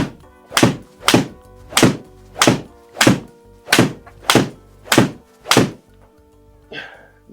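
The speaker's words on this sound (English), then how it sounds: "we're both going to take 10 shots at this Sam's ball with a 7-iron" Golf balls struck one after another with a 7-iron, eight sharp, solid thunks at an even pace about every two-thirds of a second, loud and close, followed by a faint rustle.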